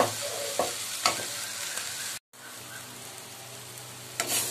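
Red amaranth greens are stir-fried in a pan with a continuous close sizzle and a few stirring knocks, cutting out briefly before the frying resumes.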